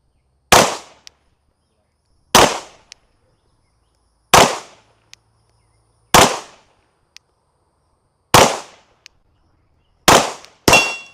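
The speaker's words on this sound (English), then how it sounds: "I just need to check the zero on this gun." Seven single gunshots ring out while a gun is zeroed at 10 yards. They are evenly spaced, loud and sharp, each ending in a quick decaying crack, and the last two come closer together.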